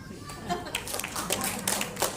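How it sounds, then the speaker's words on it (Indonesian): Workshop attendees clap in uneven, scattered bursts, a modest patter of hands rising and falling across a couple of seconds with a voice faintly present. "tepuk tangan yang masih merokok"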